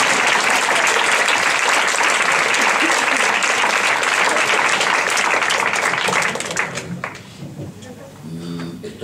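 A loud, sustained burst of audience applause fills most of the clip, then thins out and fades near the end as a voice begins.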